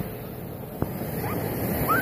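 Sea waves wash steadily onto a beach under strong wind noise, a constant close surf roar with a brief faint bird-like squeak.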